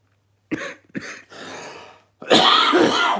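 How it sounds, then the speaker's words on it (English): A pair of short, sharp coughs, then a raspy breathy exhale, followed by a longer harsh throat-clearing cough, close to the mic with no speech. "Excuse my cough."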